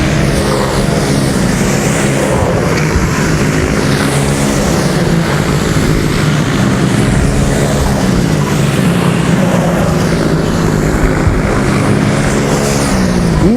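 Racing kart engines at the SWS International Finals World Masters super final drone continuously and loudly, a dense steady engine roar with shifting pitch as several karts race past, no voices.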